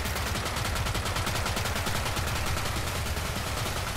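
Dense, continuous rapid gunfire from a weapon in the shooter game Borderlands 3, loud and steady with no pauses, heard alone without voices.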